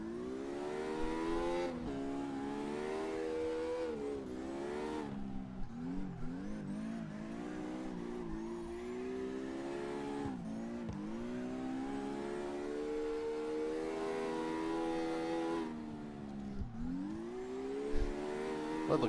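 Nissan 350Z engine in CarX Drift Racing, revving continuously with a shrill, high-pitched wail that rises and falls through repeated throttle blips and shifts, loud and sustained throughout without any talk.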